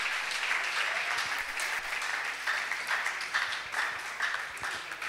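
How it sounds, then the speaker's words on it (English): Audience applause for the speakers at a Diocese of Lagos young professionals' fellowship seminar, steady dense clapping sustained for the whole stretch at even loudness, with no talk over it. "please keep clapping"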